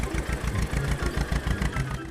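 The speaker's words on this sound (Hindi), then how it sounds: "ट्रैक्टर्स को मंगवाया।" A tractor engine runs steadily with a low, pulsing chug at close range, the loud rumble continuing unbroken throughout.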